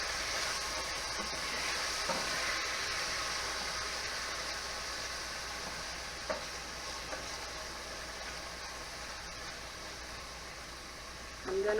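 Steady sizzling of food frying in a pan, a continuous hiss with occasional small pops, close by and moderately loud.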